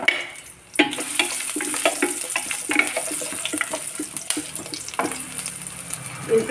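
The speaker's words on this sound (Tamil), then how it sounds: "கொஞ்சம் ஆயில் போட்டுக்கங்க அதில் வந்து இஞ்சி" Ginger and garlic frying in oil in a pan for a roadside-style salna curry, with a bright continuous sizzle that jumps in loudly after a brief quiet moment and runs on with scraping stirs.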